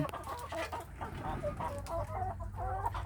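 Laying hens clucking after laying eggs in a coop, several birds producing repeated close, busy cackles and clucks over a steady low background rumble, with no talking.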